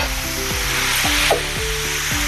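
Finely chopped peas, green chickpeas and spinach going into a hot pan for hara bhara kabab, with a loud steady sizzle close by and several stirring scrapes, no talking.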